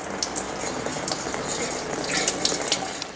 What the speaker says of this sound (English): Still some residual coolant, falling right in the camera in my face.